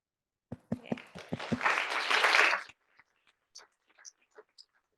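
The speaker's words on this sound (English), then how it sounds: "If we could just give them all another huge round of applause." A handful of people clap, starting with a few separate claps that build into brief applause, then fade to scattered claps.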